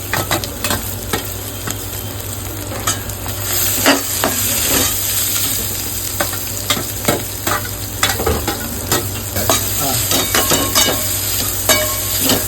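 Spice paste mixture of ground masala and sprouted tuber shoots sizzling in hot oil tempering in a village kitchen, with steady frying crackle and repeated scraping stirs of a ladle against the pan throughout.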